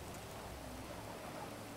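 Rain falls steadily in the game GTA FiveM, a dense, even hiss of drops with no breaks or voices for the short stretch.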